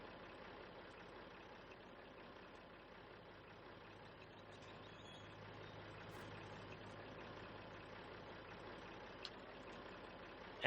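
Tractor engine towing in Farming Simulator 19, a faint, steady drone that climbs slightly in tone, with no talk.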